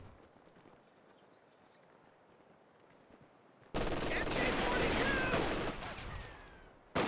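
Company of Heroes 2 machine gun opens fire in a match after a quiet stretch, a loud sustained rattle of rapid shots for about three seconds, then stopping, with a commentator talking.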